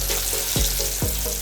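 Chicken leg piece frying in hot oil, a steady close hiss of crackling with a couple of brief louder thumps as the piece shifts in the pan.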